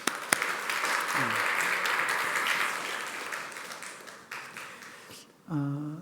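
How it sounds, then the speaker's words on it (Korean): Congregation applauding after a testimony in a church service, a steady wash of many hands clapping for several seconds, fading slightly before a voice cuts in near the end. "수고 박수 한번 했습니다"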